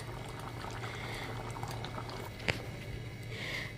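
Chickpeas boil in a pot on the stove, prepared for an iftar meal, giving a steady bubbling hiss throughout with one brief sharp knock partway through.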